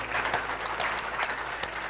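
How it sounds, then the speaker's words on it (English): An audience at a disability-themed contest's closing ceremony claps for the panel of judges, a modest, fairly thin spatter of handclaps with a few sharper slaps standing out. "A big round of applause for our panel of judges."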